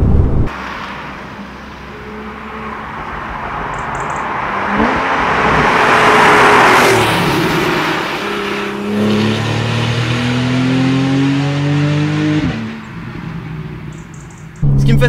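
A 350 hp Porsche 991 Carrera engine revs hard and loud, rising through the revs with a sweeping roar, easing off, then climbing again with strong harmonic tones. Tire noise and a passing rush blend in.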